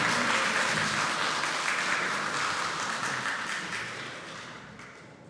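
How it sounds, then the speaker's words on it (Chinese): A church congregation at a Sunday Taiwanese-language worship service applauds to bless an engaged groom, a dense sustained clapping that fills the hall and gradually fades toward the end. "我们用最大的掌声来祝福他们。"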